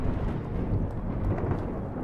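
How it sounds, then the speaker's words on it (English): Low rumbling thunder from a thunderstorm in Minecraft, heard from deep underground in a vault, a steady dull roll with faint rain-like texture and no talk. "Oh, it is starting to storm."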